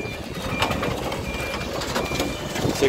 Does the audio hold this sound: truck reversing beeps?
yes